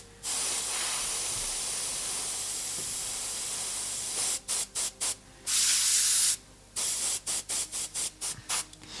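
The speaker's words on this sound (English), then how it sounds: "I try to paint with Airbrush" An airbrush sprays paint over a portrait of a chef, a long continuous close hiss followed by a series of short bursts and one longer blast, with no speech.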